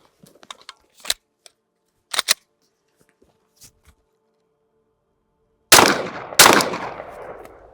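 A pistol fitted in an MCK carbine conversion kit fires two loud, close shots about a second apart. Light clicks and handling noises of the charging handle and slide come before them.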